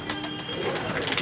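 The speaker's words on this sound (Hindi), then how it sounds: "सब कबूतर शौक से दाना खा लेंगे।" Pigeons cooing while they feed on grain, a steady soft murmur of close coos with faint background noise.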